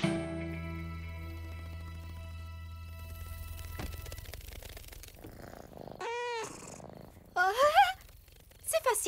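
A kitten purrs in a soft steady rumble for several seconds, followed by short spoken greetings and other sounds in an animated scene.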